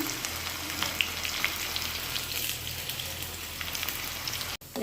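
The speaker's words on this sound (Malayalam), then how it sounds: "നമ്മൾ ഉള്ളി വഴറ്റി വന്നിട്ടുണ്ട് കേട്ടോ" Onions sautéing in a pan for a tomato masala curry, a soft steady sizzle with faint crackles and an occasional stir, fairly quiet and continuous with no voices.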